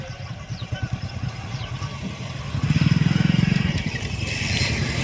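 Motorcycle engines idling and revving at a bike rally held for an Independence Day event at a horse stud farm in Mahbubnagar, a throbbing rumble that swells louder midway, with faint voices in the background.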